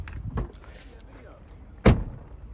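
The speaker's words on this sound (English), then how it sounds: "I mean slam they door like that." A car door is slammed shut from close by, one heavy thud after a softer bump, with low background murmur around it.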